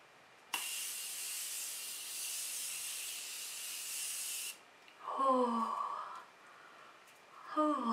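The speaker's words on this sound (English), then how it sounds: "So let's spray our face with this." A Morphe continuous setting mist sprays onto a face in one long steady hiss lasting about four seconds, starting abruptly, close and fairly loud, followed by a gasping breath and vocal sounds afterward.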